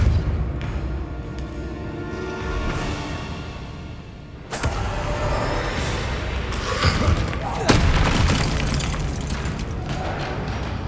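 Depulso force spell blasts in Hogwarts Legacy, a few sharp booming impacts with sudden onsets, one midway and another later, over steady game ambience.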